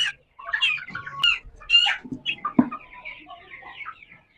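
Chickens, including a rooster, clucking and squawking nearby in short, irregular bursts, with a few sharper calls standing out.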